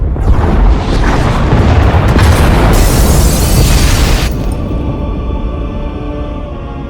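Pod bays are destroyed by a massive explosion in Star Wars: The Old Republic, a loud sustained roaring blast that rumbles for about four seconds, then fades to a low residual drone.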